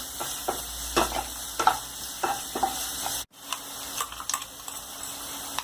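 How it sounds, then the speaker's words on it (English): Onions fry in a pan with a constant sizzle while a spatula stirs and taps the pan in irregular strokes, close by, with a brief cut partway through and no speech. "Give a good stir to the onion."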